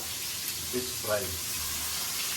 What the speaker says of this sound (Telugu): ఫిష్ ఫ్రై చేస్తుండు మా బావ